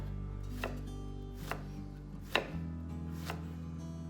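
A chef's knife slices a shallot into thin pieces on a cutting board, making four sharp, evenly spaced chops over a low steady hum, with one louder thunk near the middle.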